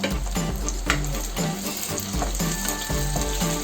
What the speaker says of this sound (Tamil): ஒரு 4 பச்சை மிளகாய் அதையும் சேர்த்துட்டு நல்லா வதக்கி விட்டுட்டே இருங்க